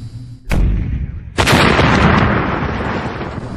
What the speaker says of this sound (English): Of an AT-4 AGDT launcher? An anti-tank gun.